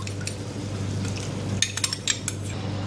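Yogurt, 200 grams of it, is beaten with a utensil against a bowl or pan during cooking. A few light metallic clinks and taps come near the end, over a steady low kitchen hum.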